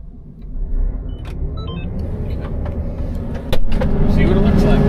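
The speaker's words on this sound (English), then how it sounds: "I'll start it back up. Just start the combine." A Fendt combine harvester's engine starts with a rise in rumble and settles into a steady, loud running drone, stepping up further midway, with people talking nearby.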